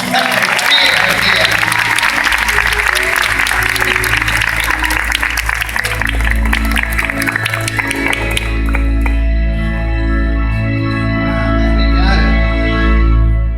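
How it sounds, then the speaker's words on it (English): A theatre audience gives a round of applause at a stage show, dense clapping over the first half that then gives way to swelling orchestral music. "Come on, give him a round of applause."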